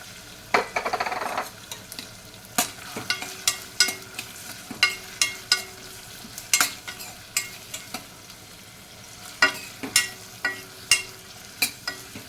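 Onions and green chillies frying in oil for a mung dal masala curry, with a steady sizzle under repeated sharp scrapes and clinks of a spoon stirring the pan, close and fairly loud, no talking.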